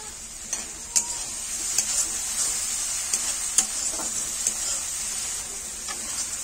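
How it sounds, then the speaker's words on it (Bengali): Spice paste with garam masala and cumin fries and is stirred in a pan for potol posto, a steady sizzle with scattered utensil scrapes and taps, close and moderate, no voices. "মশলা কষানো হয়ে গেছে"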